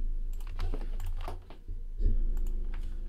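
Quick typing on a computer keyboard, rapid bursts of key clicks close to the microphone over a low steady hum, then a louder rumbling shift of background noise.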